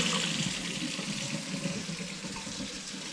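Tap water runs steadily from a kitchen faucet into a sink that is being tested for a blocked drain, a continuous close hiss and splash with no voices.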